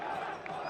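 Cricket crowd at Leicester during the 1999 World Cup match between Zimbabwe and India, mostly Indian supporters, making a steady, brief murmur and buzz of many voices under a broadcast commentator's talk.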